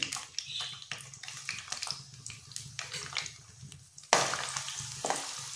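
Sliced onion fries in hot oil in a kadai, giving a steady, close sizzle with stirring scrapes. The sizzle jumps louder and brighter near the end as more onion is added.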